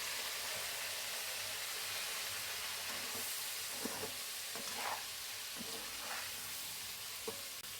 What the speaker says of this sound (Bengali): এখন আমি এই কড়াইতে করলাটা ভাজা করব।